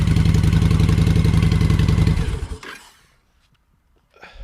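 A motorcycle engine fitted with a Cobra 2000 EFI controller runs loud and close with a rapid pulsing beat, then cuts off abruptly, leaving near silence before a faint noise at the end.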